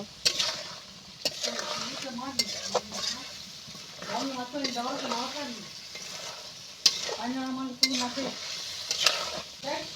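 Ghugni masala stir-fried in a pan, the spatula scraping and stirring in repeated strokes over a bubbling sizzle, with sharp clinks against the pan.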